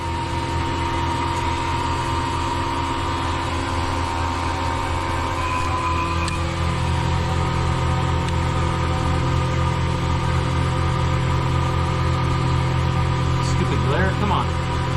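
A vacuum pump runs steadily on an AAON rooftop unit during leak repair, a constant low droning hum with a mechanical whine that holds level throughout, with a few faint handling sounds near the end.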